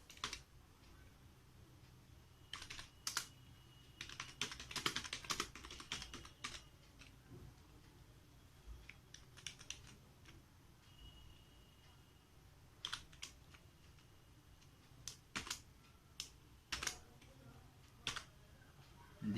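Keys clatter in short irregular bursts on a computer keyboard during a class lesson, quiet and close, with pauses between runs of typing.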